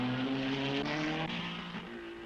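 A Cooper race car at the 1961 Belgian Grand Prix, its engine droning with a steady high tone that shifts in pitch as the car passes, fairly faint and slowly fading.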